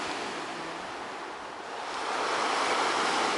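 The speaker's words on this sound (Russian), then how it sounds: "И слушать вот этот шум волны." Sea waves break and wash onto the shore on a rainy evening, a steady broad roar that swells louder toward the end, with no voices.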